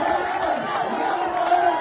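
A dense crowd roars and cheers at a tug-of-war match in Wayanad, a continuous loud wall of shouting voices with no break.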